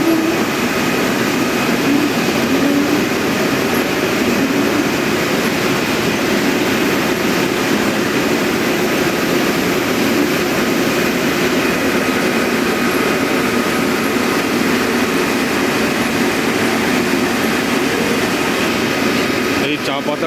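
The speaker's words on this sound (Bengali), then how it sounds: "এটা ড্রায়ার।" A tea leaf dryer machine runs inside the Doddabetta tea factory near Ooty, a loud, steady mechanical roar and rumble that continues unbroken throughout.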